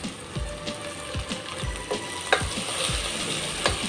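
Allspice and whole spices frying in a pan for chicken pulao, giving a soft continuous sizzle broken by regular scraping stir strokes, close and moderately loud, with no talk.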